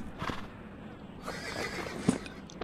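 A horse nearby gives a whinny, and hooves clop on the ground with a sharp knock near the end, all against quiet outdoor background with no talking.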